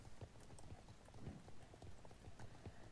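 Horse hooves clip-clop at a steady riding pace on the ride back in the online game Star Stable Online, with muffled rhythmic footfalls under a continuous noisy game background.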